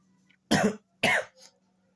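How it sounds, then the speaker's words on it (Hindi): Two sharp coughs about half a second apart, close and fairly loud, followed by a softer short throat sound; no talking. "खांसी को इग्नोर कीजिएगा क्योंकि थोड़ा तबीयत खराब हो गई ना"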